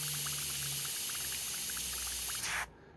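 Airbrush paint is stirred together with reducer and a few drops of additive while custom painting heels, a soft liquid swishing with light rhythmic tapping that ends in a short rush before stopping.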